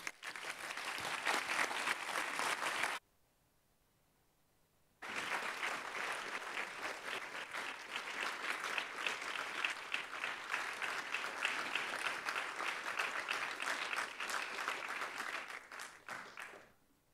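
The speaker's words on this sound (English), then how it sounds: "can I invite a final round of applause" Audience applause at the close of an academic theology conference, sustained clapping from a sizeable crowd that breaks off briefly to near silence, then resumes for a long stretch before fading out.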